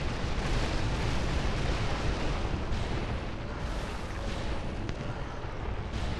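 A small explosion in the video game Dark Souls 2, a dense, loud rumbling burst that fills the whole clip, with no talk over it.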